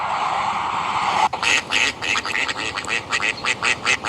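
Repeated quacking from a duck in an AI-generated animal video played back, a quick series of loud, close calls starting a second in over a steady background hiss.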